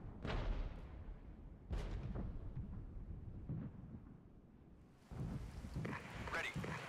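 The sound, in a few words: artillery fire in video game Regiments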